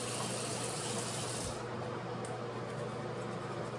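Tap water runs steadily while a toothbrush is rinsed under it, a continuous close splashing gush that softens and thins partway through.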